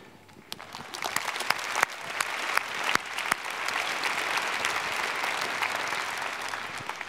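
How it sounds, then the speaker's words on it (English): Audience applause at a medicine event on Easter Monday begins with a few sharp, scattered claps and quickly swells into a dense, sustained round of clapping from a full room that stays steady to the end. "Clapping's over."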